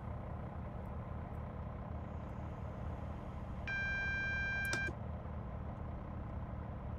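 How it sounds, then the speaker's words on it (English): An AWS warning horn sounds in Train Simulator Classic aboard an MPV multi-purpose vehicle: a steady, bright electronic tone lasting just over a second, rising clearly above the continuous low engine rumble of the cab. "Good AWS horn there."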